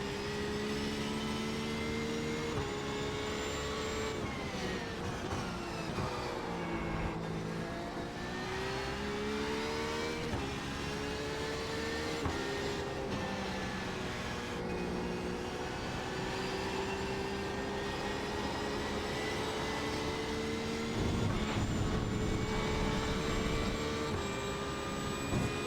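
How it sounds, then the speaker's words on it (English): Race car engines in iRacing, a continuous loud engine drone whose pitch climbs and falls through gear changes and throttle shifts, steady and unbroken for the whole stretch, with no one speaking. "a faster car approaching"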